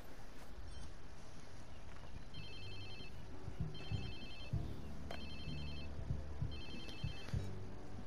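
Phone ringing in Watch Dogs 2, a repeating electronic ringtone in four evenly spaced bursts over a low ambient game background with water and wind.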